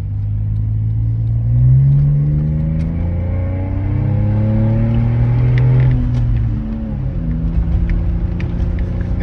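Deep, loud rumble of a modified Jeep V6 making 435 horsepower, revving up and down in a few swelling pulls before settling into a rough idle close by.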